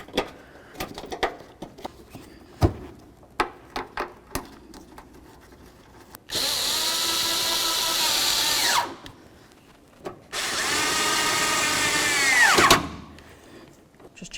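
Cordless power drill driving headlight mounting bolts into a 2008-12 Chevy Malibu, two sustained whirring bursts of a few seconds each, close and loud, with tool clicks and handling knocks between and no talk.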